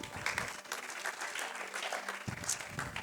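A church congregation breaks into sustained applause, a dense wash of clapping filling the room and carrying on steadily for several seconds.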